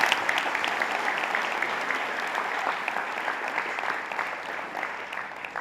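An audience at a religious study gathering breaks into sustained applause, a dense and even wash of clapping from many hands that holds steady for several seconds.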